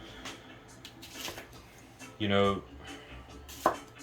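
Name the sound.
gyuto knife slicing onion on cutting board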